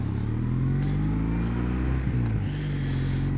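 Kawasaki W800 Cafe motorcycle engine running steadily on a road test, a loud continuous parallel-twin drone with shifting harmonic pitch and a brief dip near the end as the revs change.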